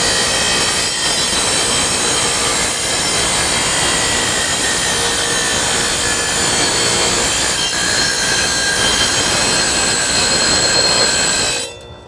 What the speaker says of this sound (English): very slowly, I am going to contact the blade, and then as it goes through, I'm gonna spin the bottle.